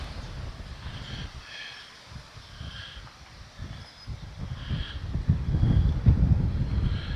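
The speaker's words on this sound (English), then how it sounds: "It's very, very windy today" Gusty wind buffets the microphone outside an abandoned cottage in low, rumbling bursts that come and go, growing stronger and more constant toward the end.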